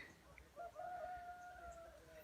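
Chickens on a chicken farm in the shaded coffee-growing countryside of Oaxaca, Mexico, with a rooster giving one drawn-out crow at moderate distance over steady outdoor background hiss.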